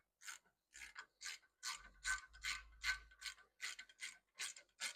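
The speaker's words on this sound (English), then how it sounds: "now I'm gonna grab my ratchet. I have my 1/2 inch with a 21 millimeter deep socket on there" A half-inch ratchet with a 21 mm deep socket drives a wheel-bearing bolt on a Volkswagen GTI or Audi A3, giving about a dozen crisp, evenly paced clicking strokes close by with no voices.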